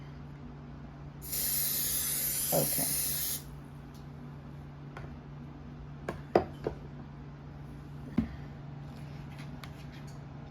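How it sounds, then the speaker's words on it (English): A short burst of vegetable oil aerosol spray hisses for about two seconds onto a glass casserole dish, followed by a few quiet clinks and taps in a still room; a voice speaks briefly. "I'm going to spray the glass casserole with just a little bit of oil."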